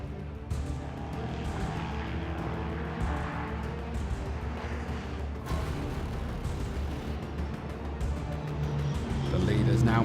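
LMP3 sports prototype race cars pass at Snetterton circuit, their engines roaring in a sustained drone that swells toward the end, under continuous race commentary.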